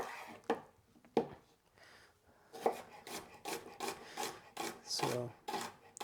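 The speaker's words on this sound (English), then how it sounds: "I am gonna roughly cut some more red onion for some other things" A knife roughly chopping red onion on a cutting board: a series of sharp, uneven knife strikes with rasping cuts between them, close and fairly quiet, with no talking.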